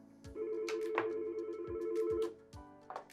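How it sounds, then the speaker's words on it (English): Tones from a Yealink desk phone as an extension is dialed for a call transfer: several clear beeps in a quick sequence, close and fairly quiet, with brief pauses between presses. "I'm going to do transfer, dial the extension."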